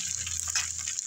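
Liquid poured into okra in a cooking pan makes a steady, close gushing hiss that lasts about a second with no pause and no voices.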